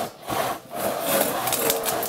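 A hand saw cuts through a wooden post outdoors at a children's summer camp, with several rhythmic back-and-forth strokes rasping steadily and fairly close, with no speech over them.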